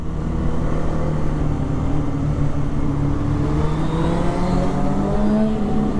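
A 2016 BMW S1000 superbike's inline-four engine hums steadily at close range during a group ride alongside other superbikes, its pitch rising and falling smoothly without a break, with no talk over it.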